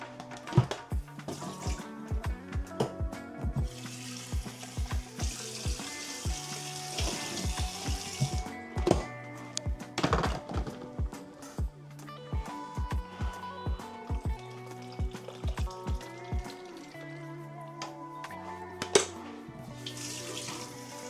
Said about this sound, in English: Just add a bit water.